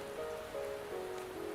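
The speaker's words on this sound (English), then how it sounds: "Don't worry, the rain won't last much longer." Steady rain pours in the video game Wuthering Waves, a constant hiss with soft tonal music lines held underneath throughout.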